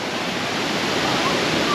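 A waterfall on a Philippine island, its water running muddy after heavy rain, gives a steady, dense roar of falling water, loud and close, with no break through the moment.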